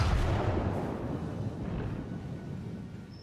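Main guns of the Japanese battleship Kawachi firing in World of Warships, one deep booming blast with a rumbling tail that slowly fades over a few seconds, loud and close.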